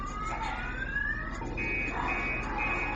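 A car alarm blares from a hot-wired car, a steady, loud electronic wail with sweeping siren-like pitch that changes partway through, continuous and alone without speech.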